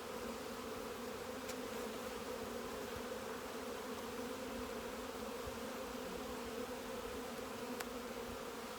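Honeybees inside a nucleus hive box with emerging young bees, a soft, even, continuous buzzing hum heard close and faint, with no voices.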